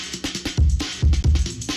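A homemade, reprogrammed sampled drum break plays alone at about 135 BPM: a loud, punchy breakbeat with heavy kicks, crisp snares and busy hi-hats in a steady syncopated groove.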